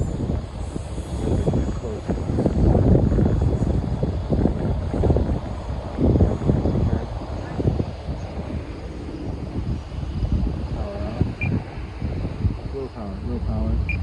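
E-flite Habu STS RC model jet flying at reduced power, a distant engine whine with wind buffeting the microphone while people talk throughout.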